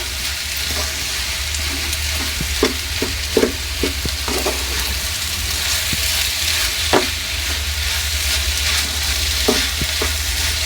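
Sugar melting in a pan while being stirred for kesari puri, a low steady bubbling sizzle with occasional spoon scrapes and knocks, close and moderately loud, with no talk.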